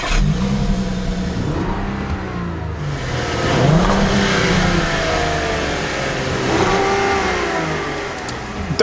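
A 2.0L turbo 2018 Audi Q7 SUV engine revs up and down repeatedly while parked, rising to a strong roar and falling back, limited to about 4,000 RPM, loud and close with no talking.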